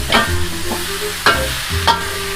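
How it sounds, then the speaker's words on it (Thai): Spicy duck necks stir-fried in a wok over high heat, a steady hot sizzle broken by a few sharp scraping clatters of the spatula against the pan, close and fairly loud with no talking. "ก็ผัดต่อไปเรื่อยๆนะครับผม ครับตอนนี้ก็ใช้ไฟแรงเลยนะฮะ"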